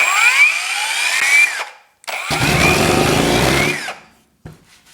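A Seesii battery-powered surface conditioning tool runs in two loud bursts, first at a low speed setting and then at its top speed, whining and rising in pitch before spinning down, with a grinding rasp against old plywood.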